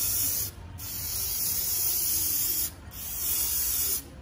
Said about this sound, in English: And that was his brake cleaner.